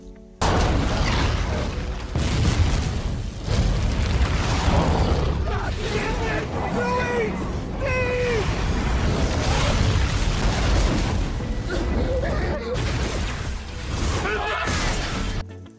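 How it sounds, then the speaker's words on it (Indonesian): The Deepwater Horizon oil rig explodes in a film scene, a sustained roaring blast with a huge fireball, deep rumbling booms and crashing debris under dramatic noise, with voices shouting in the chaos. "ledakan disertai semburan api yang dahsyat terjadi"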